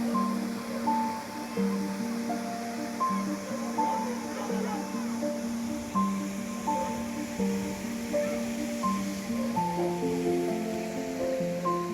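Overflowing lake water at Guluru pours over a spillway, a continuous broad rushing roar heard from nearby, partly covered by melodic background music.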